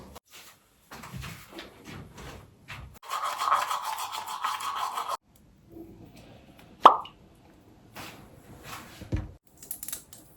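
Teeth brushed with a toothbrush in a morning bathroom routine: bursts of close scrubbing and rubbing, with one steady stretch of brushing, then a sharp plop and scattered handling noises.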